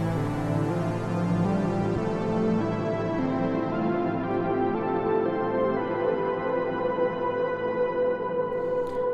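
A synthesizer in legato play mode sounds a rich, sustained tone, with further notes added on top so the pitch shifts smoothly without fresh attacks. It plays alone and full, thinning toward the end.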